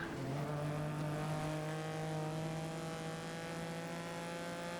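Race car engines from the GRID racing game, a Ferrari among them, hold a steady loud drone with several sustained harmonic tones that climb gradually, as if the cars are accelerating close together.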